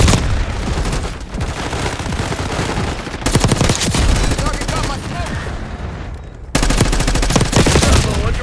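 Rapid automatic gunfire from Black Ops 6 on the Nuketown map rattles in loud, dense bursts, with a short break before a final stretch of shooting, and game sounds layered throughout.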